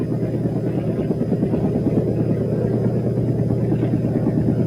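RAF helicopter flying over snowy Monmouthshire in 1963, a steady loud rhythmic thudding of rotor blades with a low engine rumble, continuous and close.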